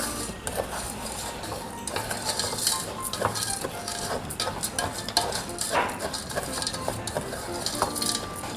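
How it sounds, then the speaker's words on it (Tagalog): Sugar melting in a pan for a Filipino Christmas dessert, stirred with a metal utensil: steady close scraping and clinking against the pan over a soft sizzle, continuous throughout with no talking. "Continue halo lang natin para hindi siya masunog."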